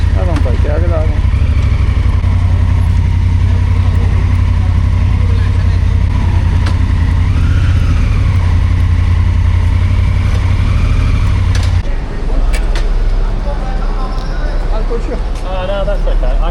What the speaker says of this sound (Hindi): अब हम बाइकें आगे ला रहे हैं।